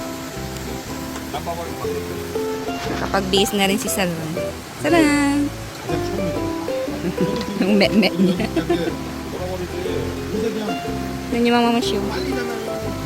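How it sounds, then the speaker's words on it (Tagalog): Heavy typhoon rain pours steadily at a campsite, a dense continuous wash running under close conversation and occasional clinks throughout. "Malakas pa rin yung ulan."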